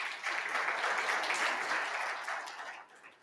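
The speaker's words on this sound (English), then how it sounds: "If you can give her a round of applause." An audience at a stakeholder roadshow in Johannesburg claps in a sustained round of applause, full and close, holding steady before tapering off at the end.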